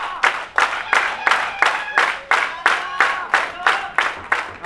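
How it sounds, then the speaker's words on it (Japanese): A pro wrestling crowd at Masahiro Takanashi's 20th anniversary show claps in steady unison, each loud clap landing about every half second in a continuous rhythmic chant-like beat. "上げろーとお客さんの歓声が"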